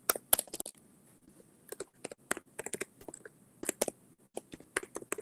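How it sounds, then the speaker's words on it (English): Typing on a computer keyboard, heard as quick bursts of light key clicks in uneven clusters with short pauses between them, close and fairly quiet, with no talking. "I'm typing it in chat."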